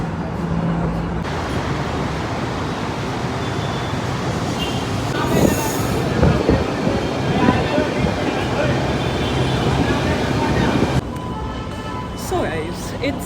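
A metro train ride: a steady, loud rumble of the carriage with squealing wheels and clattering rails throughout, muffled voices around, and the roar dropping slightly near the end.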